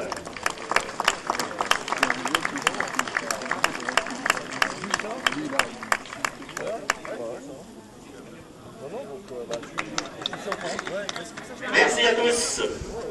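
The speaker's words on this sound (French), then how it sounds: "applaudissements pour Morgane" Applause for Morgane at a football match between Bonchamp ES and La Suze FC, a dense crowd clapping that continues for several seconds under a loudspeaker voice, then eases before a brief swell near the end.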